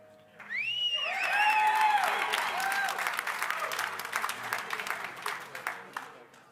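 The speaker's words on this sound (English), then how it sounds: "let's hear a round of applause depending on which one you like best" A seminar audience at an elk hunting event bursts into loud whoops and cheers, then keeps up steady, dense clapping that slowly thins out.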